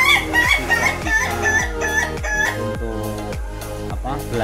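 An Ayam Ketawa laughing chicken rooster crows in a quick series of repeated, harmonic bursts about twice a second, close and loud, with no other sounds competing.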